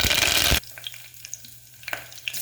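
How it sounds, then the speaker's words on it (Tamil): Cinnamon and cloves hit hot oil in a pan for soya gravy, a loud burst of sizzling that cuts off after about half a second, followed by quiet crackles and small pops. "அது கூடவே பட்டையும் கிராம்பும் சேர்த்துக்கிறேன்"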